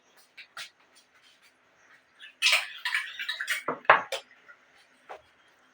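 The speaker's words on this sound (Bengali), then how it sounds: "এবার আমি ঠিক এরকম করে থালাটাকে বসিয়ে দেব আমি সমস্ত বাটিগুলো বসিয়ে দেবো" A metal plate and several bowls are set into a steaming pan of hot water on the stove while making oil-free poa pitha, giving a few soft clinks and a louder cluster of metallic clatter and scrapes in the middle, close by.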